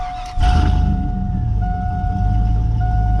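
A 2000 Chevrolet Silverado pickup engine running with no exhaust, close and loud, with a sudden onset into a rough, droning idle and a steady high whine riding over it.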